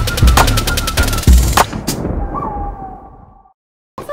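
A loud, rapid chain of firecracker bangs crackles in quick succession, fades out, then one more burst pops at the end.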